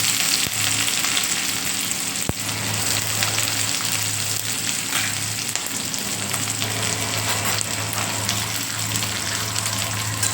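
Crushed garlic and chopped green chilies fry in hot oil with a loud, steady, close sizzle that runs unbroken throughout and has no voices over it.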